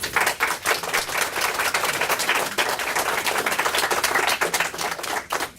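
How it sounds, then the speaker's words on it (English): An audience applauds at an anniversary gathering for a meditation radio program, a dense, steady round of clapping that lasts several seconds before thinning out near the end. "may I ask that you give them a big round of applause"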